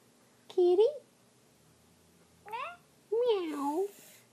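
Three meows with a gap after the first, rising and falling in pitch, close by and fairly loud; the last one is longer and drawn out.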